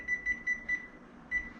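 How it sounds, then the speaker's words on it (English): Kitchen timer being set while baking pizza on a steel: a run of short, bright electronic beeps, four in quick succession and then one more after a pause, clear and close, with no talk. "So I'll go ahead and set a timer"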